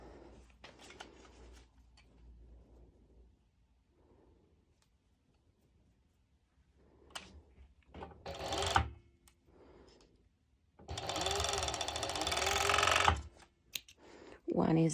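A domestic sewing machine stitches the crotch seam of bikini bottoms, running in short bursts and one longer steady whir near the end, with quiet pauses and handling noises between runs.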